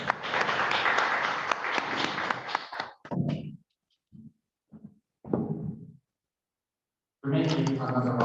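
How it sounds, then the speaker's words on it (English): Applause from the audience at the Internet Society Zambia Chapter launch event, a dense burst of clapping for about three seconds that breaks off, followed by scattered short sounds and a final loud burst of clapping. "Making another round of applause."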